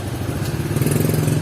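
A motorcycle engine runs steadily on a street in Yogyakarta, a rough, throbbing low rumble heard up close and continuous, with no voices.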